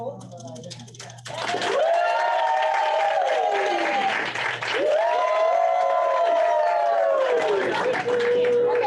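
A group at a team meeting claps in a room, sustained applause rising after a second, mixed with whoops and drawn-out cheering voices over it.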